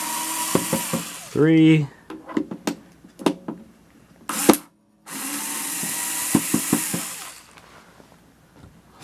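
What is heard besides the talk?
unscrewing screws of a 1972 Magnavox Odyssey console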